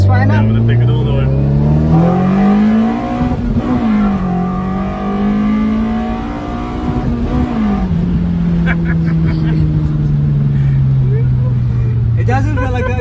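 A built Toyota Corolla 7AFE engine with individual throttles revs up toward its limit, the loud, raspy note rising and falling in long sweeps as it is pushed hard, heard close with no talking.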